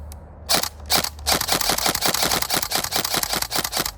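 A Tokyo Marui SCAR-H next-generation airsoft rifle fires a few single shots, then a rapid full-auto burst of sharp mechanical clacks, loud and close, with motor whir between shots.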